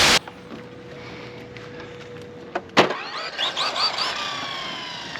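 A Traxxas Mini Slash 4x4 RC car on a pump track: after a sharp click and a quiet steady hum, its electric motor winds up in quick rising whines that pulse and fade nearby.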